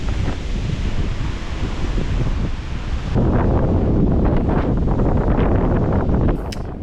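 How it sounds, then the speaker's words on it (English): Strong wind buffeting and roaring at a beach campsite in Whananaki South, New Zealand, a loud continuous rush with heavy microphone rumble that surges and shifts throughout. "That wind has picked up, it's howling out there."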